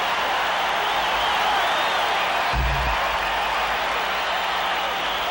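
Crowd cheering and applauding at a 1985 World Series baseball game at the Royals' stadium, a dense sustained roar throughout with a brief low thump midway.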